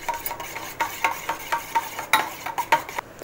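Egg batter is stirred briskly in a bowl, making a rapid run of light clicks and scrapes with an uneven rhythm, close and fairly quiet, and no one speaks.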